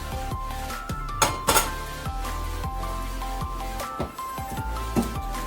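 A metal pan clatters and clinks against other cookware a few times, with sharp knocks standing out over a steady low kitchen hum.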